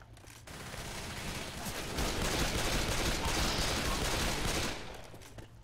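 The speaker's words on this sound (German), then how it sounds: "Es schießt schon wieder jemand auf mich" Sustained automatic gunfire in the zombie shooter Left 4 Dead 2, set in a shopping mall: a dense, rattling stream of shots that swells louder midway, then tapers off near the end.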